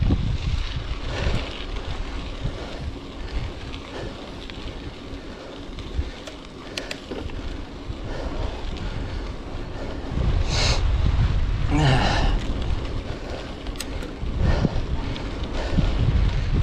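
Strong side wind buffets the microphone during a bike ride through town, a continuous loud rumbling roar that swells louder partway through, with faint passing noises and no speech.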